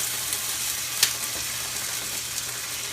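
Tilapia fries in a hot skillet with a constant, close hiss of sizzling oil, steady throughout with a small pop or two, no voices.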